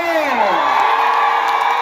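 A crowd of university students at a youth rally cheers and whoops for the politician Babu Owino. The sound is loud and continuous across the whole moment, with a few shouted voices rising out of the dense noise.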